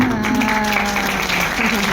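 Audience applause at a spiritual discourse on Shiv Baba, a steady, dense wash of clapping throughout with a faint tonal hum underneath.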